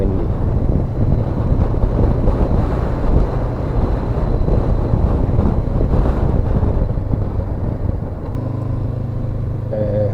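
Strong wind buffets the microphone on a 2019 Honda CB500X motorcycle in a loud, continuous rumbling roar, with a faint engine hum underneath throughout.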